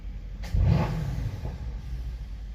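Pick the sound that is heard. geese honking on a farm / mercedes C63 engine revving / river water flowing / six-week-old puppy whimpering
mercedes C63 engine revving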